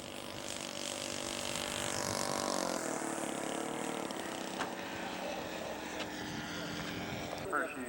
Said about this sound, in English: Coming in for his hot landing.